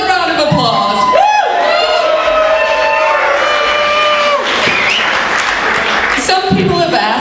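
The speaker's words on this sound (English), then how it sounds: "another round of applause" A crowd at the Porcupine Freedom Festival 2009 launch party cheers loudly, with whoops and drawn-out shouts and hollers over clapping, close and full, while voices call out throughout.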